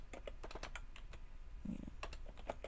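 Fingers type on a computer keyboard in quick, irregular clicks and taps, close but quiet, with no talking during the keystrokes.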